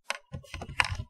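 Keys clatter on a computer keyboard in two or three quick bursts of close, crisp clicks, with brief pauses between them and no voice.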